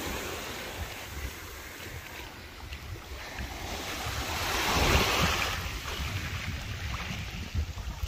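Sea waves wash onto a stony beach shore at a Rhodes hotel, a continuous rushing surf that swells to a louder break midway, with wind buffeting the microphone and no voices.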